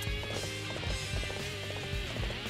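Horse hooves galloping in the video game Dynasty Warriors 8, a fast repeated clip-clop rhythm set against dense battle music and noise at steady volume.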